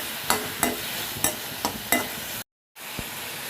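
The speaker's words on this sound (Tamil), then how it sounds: "அதே இதோட நல்லா போட்டு வதக்கி விட்டு" Tomatoes sautéing in a pan with thuthuvalai leaves for chutney, a close continuous sizzle broken by regular scraping stirs of a spatula, with a brief cut to silence near the end, and no talking.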